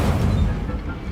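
A single Incendio fire spell cast in Hogwarts Legacy, a loud, dense burst of roaring, crackling flame that fills the whole moment and fades slightly at the end.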